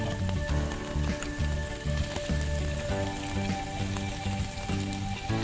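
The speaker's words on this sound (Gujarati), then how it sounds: "તેલમાં 6-8 કળી સમારેલું લસણ આપણે નાખીએ છીએ." Chopped garlic frying in hot oil in a kitchen, a steady dense sizzle that carries through without pause, with rhythmic music playing underneath.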